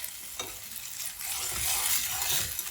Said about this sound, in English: This is just a quick flash fry.